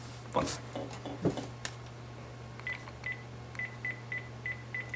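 A telephone keypad dialed as a number is punched in, a string of short electronic tones evenly spaced in a quick rhythm after a few knocks of handling the handset, close and clear with no talk.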